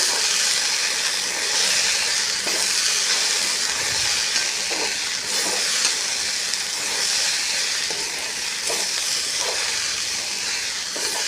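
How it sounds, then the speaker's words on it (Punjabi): Masala sizzles and crackles steadily in a hot pan while being roasted for an okra curry, a dense, loud frying hiss with occasional stirring scrapes and no talking. "ਲਓ ਜੀ ਇਹ ਮਸਾਲਾ ਹੁਣ ਆਪਾਂ ਭੁੰਨਾਂਗੇ"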